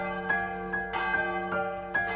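A clock bell strikes the hour in a steady sequence of ringing tones, each strike decaying into the next, clear and moderately loud with no voices.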